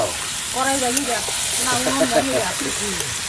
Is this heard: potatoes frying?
yes